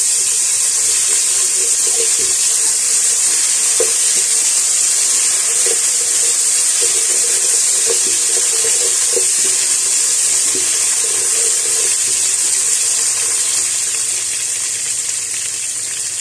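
Ginger garlic paste sizzles in a pot, a steady hiss of frying with faint scraping taps from stirring, continuous and close without talk.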